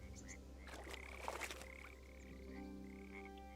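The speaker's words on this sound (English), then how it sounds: "Where's the frog?" Frog croaking at a pond in Kingdom Come: Deliverance, a few rough croaks in the first second and a half over steady ambient hum and sustained tones, fairly close and moderately loud.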